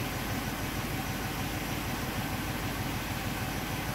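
An engine cranks over during a compression test on a cylinder with low compression, in a car being checked for a misfire from a lean cylinder. The churning is steady, loud and close, with no talking.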